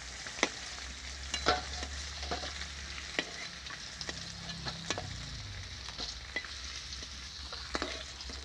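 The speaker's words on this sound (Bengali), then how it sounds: "এইভাবে সব মাছগুলো ভেজে নেব।" Rohu fish pieces sizzle steadily in hot oil in a pan, with sharp crackles and pops scattered throughout and occasional soft stirring scrapes, close and continuous with no voices.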